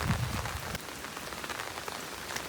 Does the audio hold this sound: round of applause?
no